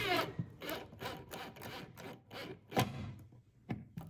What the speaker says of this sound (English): I'm drilling a pilot hole through the base to make sure it doesn't crack